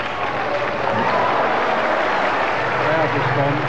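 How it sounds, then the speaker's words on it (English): A crowd at the 1989 Hong Kong Snooker Gold Cup final applauds after Alex Higgins pots the brown: dense, sustained clapping that fills the hall at an even level throughout. "Crowd response."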